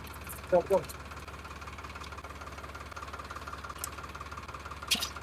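A farm tractor with a harrow runs steadily in a field, its low engine drone constant and moderately distant, while a couple of brief voices call out over it.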